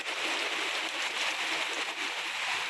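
A daytime downpour drums hard and constantly, a thick wash of rainfall on nearby surfaces with a faint watery rush underneath and no one speaking.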